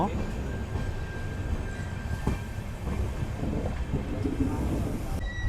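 The Machilipatnam to Bidar superfast express runs on, with a continuous low rumble and rattle of the coach filling the space, close and steady, with faint voices in the background.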